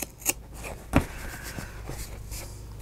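Sewing scissors cutting paper corners on a handmade journal cover, with two crisp snips close by followed by faint rustling against a quiet background hum.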